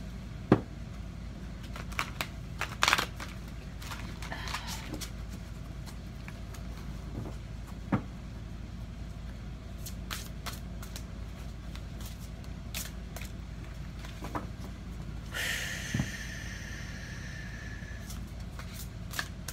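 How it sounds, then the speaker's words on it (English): Tarot cards are shuffled and drawn close by: soft scattered flicks and riffles over a steady low room hum, with a brief flurry of card snaps early on and a longer riffle near the end. "One more card for the divine masculine, please."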